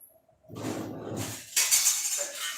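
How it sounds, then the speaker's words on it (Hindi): A lid is put on a pot of dal in a home kitchen. A near, loud clattering clink of metal and glass is followed by a bright ringing rattle as the lid settles, with no talking. "ढक्कन बंद कर देती हूँ जल्दी से"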